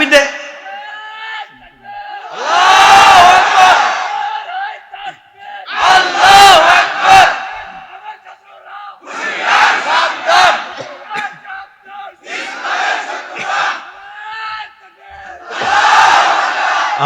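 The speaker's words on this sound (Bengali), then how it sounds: "তাকবীর দে।" A large crowd at a Bengali Islamic sermon roars Allahu Akbar in five loud, full-throated bursts, each a few seconds long, separated by short pauses, with a preacher's voice between them.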